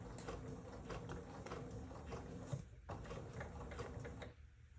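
A sewing machine runs steadily, stitching along a marked line on a quilt block, with a continuous mechanical whir that pauses briefly near the end.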